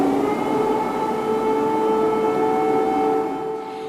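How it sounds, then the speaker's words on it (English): Air raid sirens wail across Kyiv during a Russian aerial attack, a loud sustained droning wail with steady layered tones that holds level before easing slightly at the end. "Air raid sirens sounding in Kyiv."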